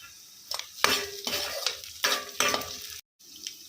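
Onions and green chillies frying in a pan for a radish-leaf tomato curry, a close, bright sizzle broken by several scraping stirs of a utensil against the pan, with no one talking.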